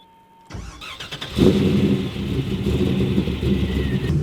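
A diesel truck rig with a fully manual gearbox and electronic handbrake cranks and starts, the engine catching after a brief starter whir and settling into a loud, steady rumbling idle close by.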